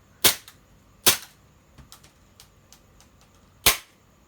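Three sharp pops from a Tokyo Marui SIG P226 airsoft pistol being test fired after repair, loud and close, spaced irregularly with faint mechanical clicks in between.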